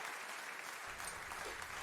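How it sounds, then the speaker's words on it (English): Brief, faint burst of clapping from a small group, a soft steady patter lasting under two seconds with no voices over it. "Give you a round of applause and some acknowledgement there"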